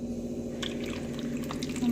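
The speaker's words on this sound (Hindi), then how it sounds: "बर्फ बहुत सारे डाल के पानी ऐड करो।" Water poured onto lots of ice in a makeshift homemade cooler, faint splashing and dripping over a steady low electric hum, with a few brief clinks.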